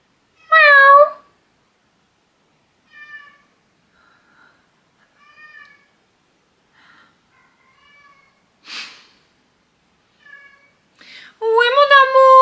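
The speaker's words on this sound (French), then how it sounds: "il y a mon chat qui est en train de pleurer devant la porte." A house cat cries and meows at a closed door, loud close calls with long quiet gaps between them, a few fainter mews and a sniff in the middle, then a louder drawn-out cry at the end.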